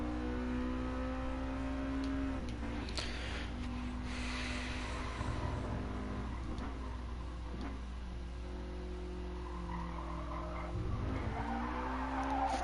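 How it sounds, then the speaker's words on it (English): Race car tires squeal and skid in Gran Turismo Sport, loud and sustained over a steady engine drone, with repeated bursts of screeching as the car slides through corners. "Ooh, hear the tires squeal."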